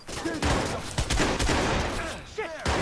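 Rapid gunfire and bursting blasts from a firefight in the video game Watch Dogs, set on an army base; dense, loud volleys repeat throughout with a few sharp peaks, and a voice is faintly audible beneath the shooting.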